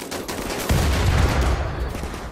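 Gunfire in the colony-building video game Rimworld, a dense stretch of rapid overlapping shots in loud bursts with no talk.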